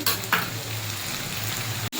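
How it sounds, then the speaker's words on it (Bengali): Browned onions frying with ginger-garlic paste and ground green chilli in a pan for an echor-prawn curry, a steady close sizzle with brief stirring scrapes and a short dip near the end. "পেঁয়াজটা এগুলো লালচে করে ভাজা হয়ে গেছে, দিয়ে দেবো এখানে আদা রসুন বাটা"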